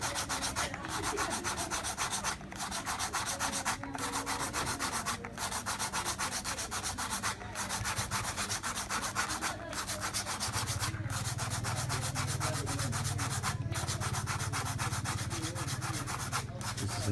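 A hand sanding and smoothing a Burmese lacquerware bracelet, a steady close rubbing hiss with regular brief pauses between strokes, no talking.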